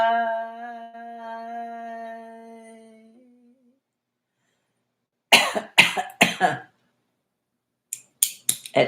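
A steady hummed tone fades out, then after a pause come several harsh throat-clearing coughs in a quick cluster, with a few more near the end.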